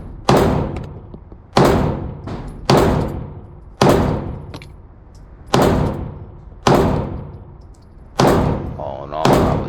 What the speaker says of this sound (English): Now I'm gonna shoot the 45.